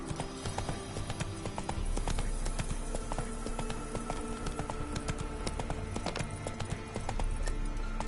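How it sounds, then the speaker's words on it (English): Hooves of a galloping horse in The Witcher 3: Wild Hunt pound in a fast continuous clip-clop, loud and close over dense game ambience, with no speech. "Run, Roach"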